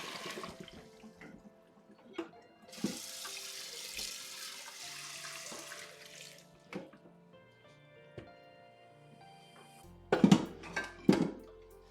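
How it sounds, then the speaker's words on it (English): A cooking pot fills with water from a kitchen sink tap, a steady hissing rush for several seconds that thins into trickles and drips, followed by a few louder clanks of the pot close by. "Wait for my pot to fill up here."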